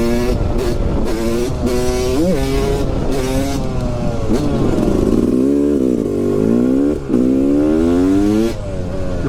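A Yamaha YZ 250 two-stroke motorcycle is ridden hard, its loud buzzing engine rising and falling through repeated revs and gear changes, close and dominant with clattering bursts between pulls.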